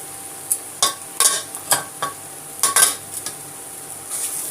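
Eggplant is stirred and mixed in a frying pan: a string of sharp, irregular spatula clinks and scrapes against the metal over a faint background sizzle, close and clear.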